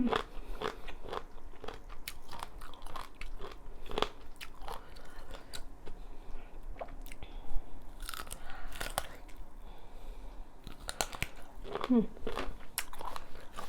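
Raw eggplant is bitten and chewed up close, with irregular crunchy snaps and wet chewing repeating over several seconds, alongside a few faint background noises.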